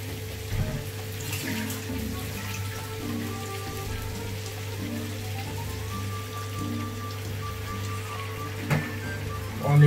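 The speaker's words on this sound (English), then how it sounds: "put a little bit of water here." Water pours steadily into a stroganoff pot of thinly sliced meat, a continuous splashing and hissing flow close by that runs for about ten seconds without talk.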